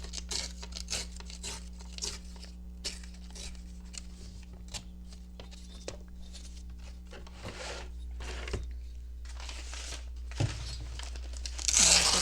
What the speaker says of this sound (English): I'm going to tear that off